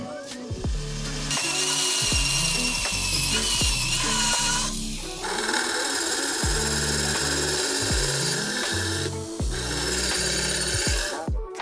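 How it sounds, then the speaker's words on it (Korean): A tiny micro drill bores 1.2 mm holes in 6 mm plywood, producing a loud, high whine with rhythmic grinding pulses as the bit bites in, running almost continuously with short breaks. "구멍을 뚫기 위해서 초소형 드릴을 사용했습니다."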